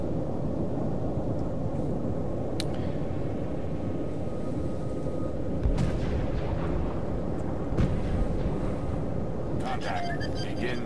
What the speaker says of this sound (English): They're already firing their missiles.